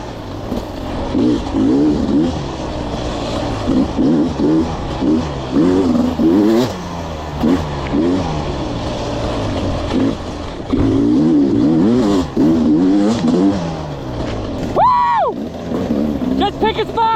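Dirt bike engines revving through an enduro race on singletrack, loud near two-stroke style whine rising and falling continuously, with a sharp rev burst near the end and talking over it.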